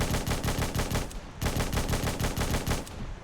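Rapid automatic bursts from an HK G28 rifle in Fallout 4, two sustained strings of sharp, evenly spaced shots with a brief gap between them, loud and close with no talking.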